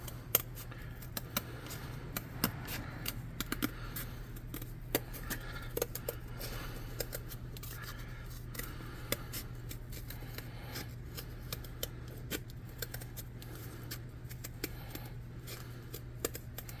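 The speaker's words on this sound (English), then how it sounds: "Then I'm just going to use a pair of scissors" Scissors snip through a piece of cardboard game board in quick, irregular close-up cuts over a low steady hum, with no talking.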